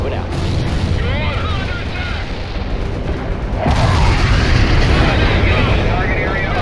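Artillery fire mission in the video game World in Conflict, with heavy rumbling explosions and booms rolling continuously and growing louder midway, while voices talk faintly underneath.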